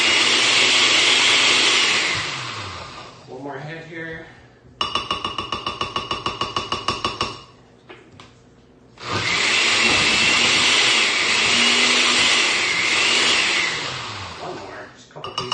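A blender whirs loudly, blending peas into a chunky dip, in bursts of high-pitched grinding with a brief stutter of rapid pulses between them. Someone speaks briefly in a gap.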